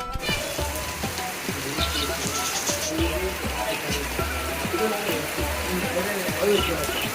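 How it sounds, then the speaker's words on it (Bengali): Heavy rain pours steadily over an outdoor pigeon market, a dense continuous patter and splash with faint voices and muffled activity underneath throughout. "কি পরিমাণ বৃষ্টি শুরু হয়ে গেছে তা তো দেখতে পাচ্ছেন"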